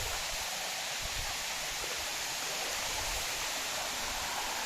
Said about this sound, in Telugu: We are in water falls.